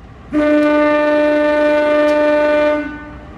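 A departing locomotive horn at Karangpucung station blasts one long, steady, loud tone for a few seconds, then stops, with faint rail rumble around it.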